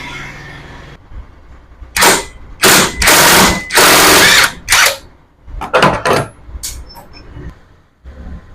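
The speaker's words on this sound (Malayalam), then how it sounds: "ഈ ഒരു നെറ്റ് നമുക്കൊന്ന് അഴിച്ചെടുക്കാം" A power tool, likely an impact wrench, loosens the 24 mm clutch hub nut on a Yamaha Ray scooter in several short, loud, close whirring bursts separated by brief pauses.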